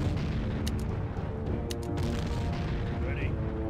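Artillery in Empire Earth fires in a dull barrage of booms and thuds, dense and continuous, mixed with sharper crack-like impacts, while someone talks over it.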